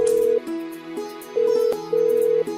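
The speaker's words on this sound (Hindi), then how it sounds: "नीचे फोन लगा और बात कर" Phone keypad being dialed: a short run of clear electronic tones, each held for a moment with brief gaps, loud and close with no talking.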